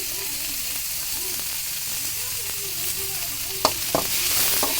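Tomatoes fry in a pan for semiya upma, making a continuous close sizzle with gentle stirring and a couple of sharper spoon clinks toward the end.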